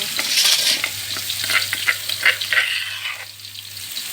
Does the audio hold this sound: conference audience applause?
no